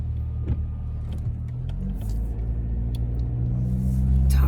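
Road noise inside a moving car, a steady low rumble that builds slightly toward the end, with a few faint clicks and rustles nearby and no talking.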